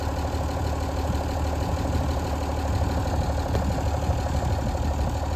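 An old 1975 White 2-150 tractor engine idles steadily with a low, chugging rumble and faint knocking, running evenly and fairly close throughout.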